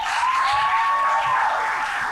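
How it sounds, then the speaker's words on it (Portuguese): An audience at a church youth gathering applauds their leaders with steady, dense clapping and a few cheers, sustained without a break. "uma salva de palmas para seus líderes"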